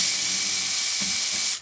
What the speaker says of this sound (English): You can hear how much faster the impact driver is spinning as opposed to the cordless drill on the first speed setting.